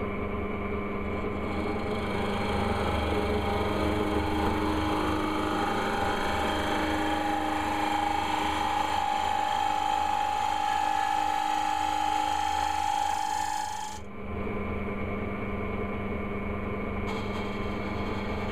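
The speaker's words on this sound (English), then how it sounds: "Turn the lathe on." A wood lathe runs with a steady motor hum and tonal whine while a chisel shaves an earring holder, brief cutting scrapes rising over the drone before it dips and resumes.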